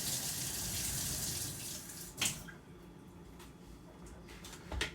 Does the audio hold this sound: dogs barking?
no